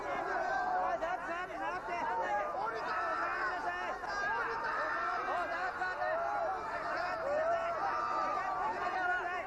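A dense crowd chatters and murmurs continuously at a night-time FMW vs Michinoku Pro wrestling event entrance, many overlapping voices forming a steady babble with occasional laughs.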